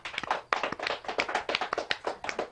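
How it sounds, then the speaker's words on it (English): A small audience claps for a local high school student guest, with quick, uneven, fairly close hand claps and taps in a busy cluster lasting a few seconds. "Can we get a round of applause for him?"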